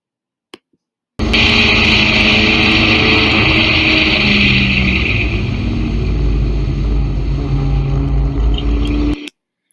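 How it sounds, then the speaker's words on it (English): A car accelerating in a straight line gives a loud, steady engine roar and road rumble that holds for about eight seconds, then cuts off abruptly. No one speaks. "see the vehicle is accelerating in a straight line"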